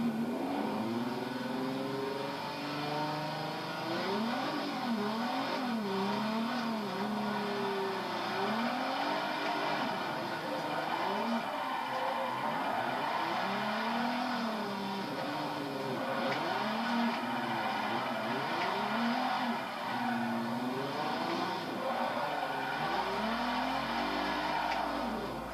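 Four-wheel-drive car drifting in the racing video game Forza 4, its engine revving and warbling steadily and loudly with rising and falling pitch sweeps throughout, no voices over it.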